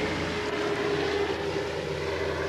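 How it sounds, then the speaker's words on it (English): A flying boat airplane in flight produces a steady, loud propeller-engine drone with a constant hum, heard alone and unbroken. "A week later, the aircraft flew back to England."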